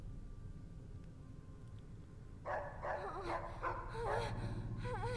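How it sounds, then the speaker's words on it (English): A dog in Fallout New Vegas yips and whimpers in short bursts over a low game hum, first quiet and then a few louder barks near the end, with no talk. "Why is the dog barking?"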